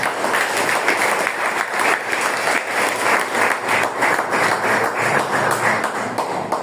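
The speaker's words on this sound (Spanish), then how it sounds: "Dale palmas a Dios." A church congregation applauds steadily through a sermon on the church's role in national politics, a dense, continuous wash of many hands clapping at even loudness from start to finish.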